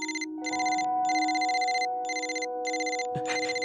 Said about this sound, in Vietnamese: Điện thoại của anh.